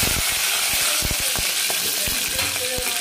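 Four green chillies and big chunks of tomato drop into hot oil with curry leaves for a festive varan. A steady, close sizzle carries through, with scattered clatters and pops from stirring.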